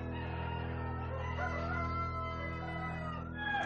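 A Silkie, an old Chinese breed of silk-feathered hen, clucks and calls steadily with a nasal, harmonic voice, close and moderately loud, holding one drawn-out note for nearly four seconds with no talk.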